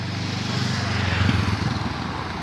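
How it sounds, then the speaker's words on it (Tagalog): Yamaha Aerox scooter engine idling or running steadily at a roadside checkpoint, a continuous low buzzing hum with a slight swell midway, close and fairly loud with no talk. "Yun yung motor niya."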